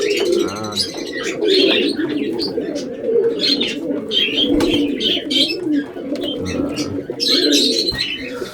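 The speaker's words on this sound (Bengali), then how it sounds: "আগে কিন্তু প্রচুর পায়রা ছিল, এখন অল্প পায়রা হয়ে গেছে" Pigeons coo and chirp in overlapping calls during morning feeding, a busy, fairly loud flock sound that runs continuously with no talking.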